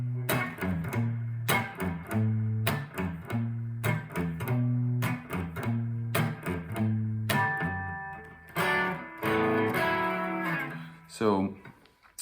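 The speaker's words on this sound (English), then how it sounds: "he goes into an interesting, like almost chromatic riff, which sounds like this." An electric guitar runs a near-chromatic riff of repeated punchy low notes in a steady rhythm before climbing into higher ringing notes and a final slide, loud and close with no talking.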